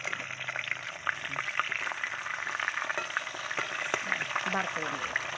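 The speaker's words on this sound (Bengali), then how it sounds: "মাছটা ভাজা হয়ে গেছে।" Fish frying in hot oil in a home kitchen, a steady close sizzle and crackle with occasional stirring clinks and scrapes running throughout.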